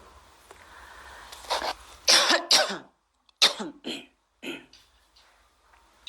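A teacher in a spine yoga class coughs several times in close, sharp bursts, with brief throat clearing and pauses between them.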